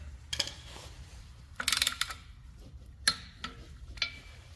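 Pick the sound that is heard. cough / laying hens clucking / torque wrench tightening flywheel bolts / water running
torque wrench tightening flywheel bolts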